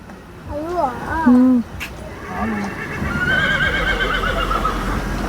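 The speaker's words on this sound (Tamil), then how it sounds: "குதிரை சவுண்ட், அதோட ஃப்ரெண்ட் அங்க இருக்கு, அதனால வருது" A horse neighs loudly nearby in a rising-and-falling whinny, calling to another horse, followed by softer snorts and a steady outdoor background in a pine forest in Ooty, with a voice briefly present.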